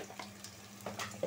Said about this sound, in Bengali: রসুন বাটা আদা বাটাটা একটু ভাজা নিব যাতে কাঁচা গন্ধটা চলে যায়